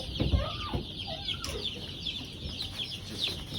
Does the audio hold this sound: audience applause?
no